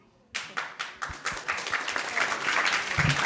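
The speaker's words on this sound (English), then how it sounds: "She got an applause just for just playing." An audience applauds at a youth event, starting with a few distinct claps that quickly swell into steady, fairly quiet clapping from a small crowd.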